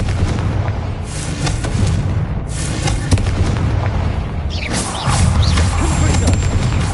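Confringo fire spell explosions in the Hogwarts Legacy video game: loud, repeated booming blasts and crackling bursts over dense game ambience, with a heavier impact near the end.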